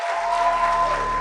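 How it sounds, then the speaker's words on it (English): Applause from guests at a wedding celebration at Lakeview by Carmen's in Hamilton, a dense, steady clapping crowd sustained at even loudness for a brief stretch. "Let's give them another round of applause."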